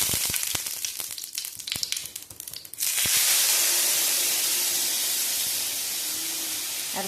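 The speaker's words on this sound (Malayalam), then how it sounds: "ഇതാ പാൻ ഒഴിച്ച് അടുപ്പത്ത് വെച്ചിട്ട് വെളിച്ചെണ്ണ ഒഴിച്ച് കടുക് പൊട്ടിച്ചിട്ടുണ്ട്." Mustard seeds spluttering in hot coconut oil in a pan on a stove, with scattered sharp pops at first and then a loud continuous sizzling hiss, close by.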